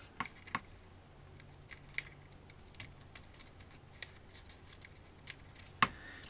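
Scissors trim sticky transfer film for a retro video game kit, giving faint, sparse snips and small clicks spread irregularly over a quiet background, with one sharper cut near the end.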